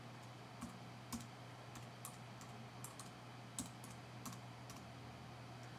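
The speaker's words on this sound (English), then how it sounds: "I'm typing with one hand here." Soft keyboard typing done with one hand on a computer, sparse, uneven clicks spaced out over a quiet steady hum, fairly close and faint.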